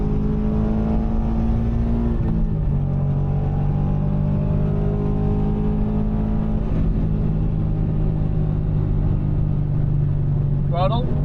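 Subaru BRZ track car accelerating at full throttle on an F1 circuit, a loud steady engine drone heard from inside the car with the pitch sweeping through a gear change.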